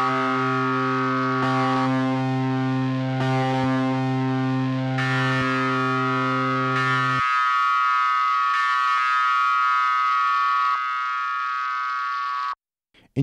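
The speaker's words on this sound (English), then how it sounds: "Frequency shifting works by moving each frequency in a signal by a set amount." A synthesized tone run through a frequency-shifting effect takes on a harsh, metallic, inharmonic edge, holding steady chords that change in stepped blocks before cutting off abruptly near the end, with no talking.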